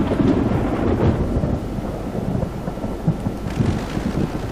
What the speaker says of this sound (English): Oh wow, that's a good thunder.